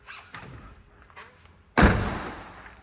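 A heavy door on a Ford Mustang Shelby GT500 Eleanor swings and shuts with one solid, loud thud that rings briefly, after a few faint handling clicks.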